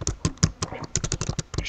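Keys clatter on a computer keyboard as a short keyword is typed, with quick, uneven keystrokes close up and a faint low voice in the background.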